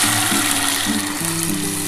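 Biuli dal (urad lentils) hitting hot oil tempered with fennel, ginger and asafoetida, giving a steady, close, broadband sizzle with faint scraping and no talk.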